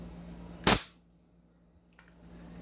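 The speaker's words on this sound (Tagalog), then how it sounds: "Okay, mga ka-airsoft, Glock 17. Firing." A single sharp crack from a Glock 17 airsoft pistol firing one shot close by, followed by a quiet background hum and a faint click.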